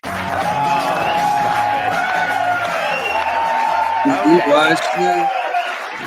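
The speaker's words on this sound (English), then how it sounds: "Are you clapping for me" Live audience cheering and whooping with clapping, loud and continuous, with voices shouting over a sustained crowd roar.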